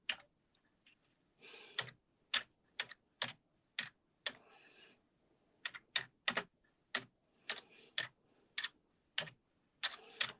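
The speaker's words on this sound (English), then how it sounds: "I can hear myself typing in my headbands." Someone types one-fingered on a computer keyboard, producing sparse, crisp keystrokes in an irregular rhythm, close and fairly loud against a quiet background, with no talking.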